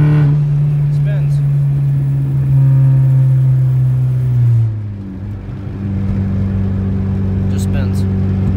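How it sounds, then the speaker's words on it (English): A Chevrolet Cobalt in third gear accelerates with its wheels spinning, giving a loud, steady engine drone that dips and shifts pitch midway while someone talks over it. "I'm going 50 right now, 40, spinning at third"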